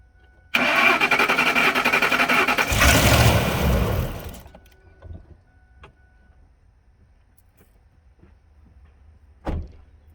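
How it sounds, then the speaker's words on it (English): A 2004 Ford Expedition with a 5.4L engine cranks loudly for a few seconds, catches and starts, then settles to a quiet idle before a brief thump near the end, heard close with no talking. "Alright, so you heard it crank up and everything."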